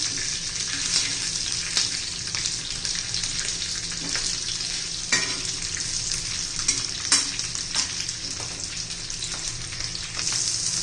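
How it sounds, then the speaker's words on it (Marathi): Green chillies frying in hot oil, a continuous close sizzle with repeated scraping and stirring clicks spread across the clip. "आता चांगल्या तेलामध्ये आपल्याला परतून घ्यायच्या ह्या मिरच्या"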